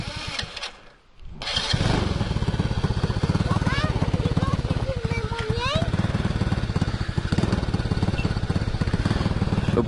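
A swapped-in 125cc engine on a child's mini 4x4 cranks briefly, catches and settles into a loud, steady buzzing run close by, with talk over it.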